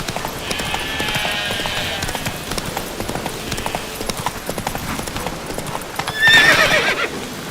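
A horse gallops in The Witcher 3: Wild Hunt with a steady, fast clip-clop of hooves, close and loud, a neigh rising near the end.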